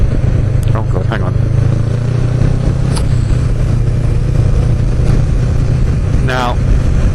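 A Kawasaki ER6F motorcycle rides along with a loud, steady engine drone mixed with wind roar, heard up close from the rider, with a voice speaking over it.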